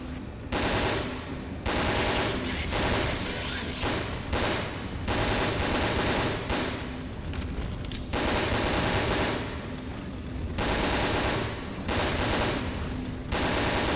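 Dense, continuous machine-gun bursts and rapid shots in the video game Resident Evil Dead Aim, loud and sustained over a busy in-game background with short pauses between volleys.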